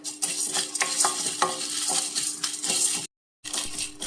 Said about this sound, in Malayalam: ചീനിച്ചട്ടിയിലെടുത്ത് വറുത്തത് നല്ലോണം ചുമക്കുന്ന വിധത്തിൽ മൂപ്പിക്കണം